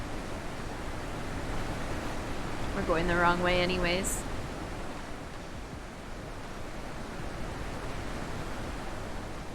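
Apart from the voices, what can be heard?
waterfall noise in The Witness video game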